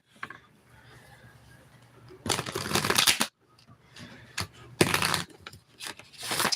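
Tarot cards are shuffled close up, with two loud riffling bursts about a second long each and softer handling and tapping of the deck between them.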